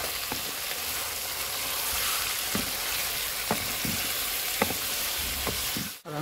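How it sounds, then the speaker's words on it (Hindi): Chicken frying in a pot for biryani, a loud, continuous sizzle with scattered pops and occasional scrapes of a stirring spoon, close up and with no voices. "अब चिकन डालेंगे इसमें। चिकन को अच्छी तरह फ्राई कर लेंगे।"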